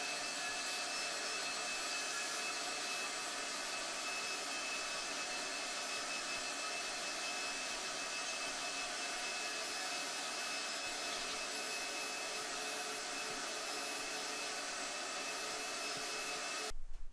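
Vacuum cleaner sucking up loose faux fur trimmings after appliqué embroidery on a hoodie, a steady high whooshing roar that runs continuously and evenly before cutting off at the very end.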